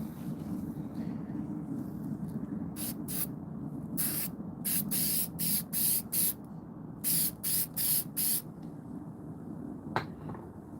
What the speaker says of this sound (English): Let me spray this down so I'm gonna spray this down right here